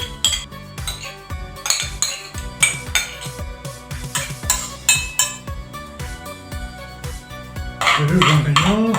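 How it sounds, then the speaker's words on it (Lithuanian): Cooked scrambled eggs scraped and scooped out of a frying pan with metal utensils, giving repeated close clinks and scrapes of metal on the pan in an irregular rhythm, with a louder burst of clattering near the end. "Nu va, ir dabar renkam mūsų keptus kiaušinius"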